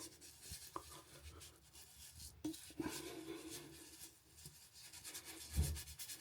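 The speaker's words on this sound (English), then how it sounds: "We're going to brush this a little bit, rinse it out just a little bit" A brush scrubs a washing machine part during mold cleaning, giving soft, irregular rubbing strokes that rise and fall over a few seconds with a brief louder scrape near the end; no one speaks.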